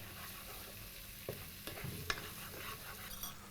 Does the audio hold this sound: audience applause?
no